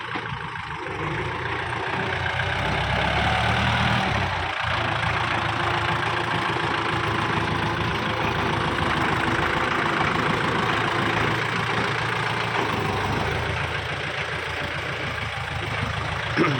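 A 2018 Kubota L5018 farm tractor engine idles with a steady, loud low rumble and dense mechanical clatter, running evenly and unbroken from start to finish, close by.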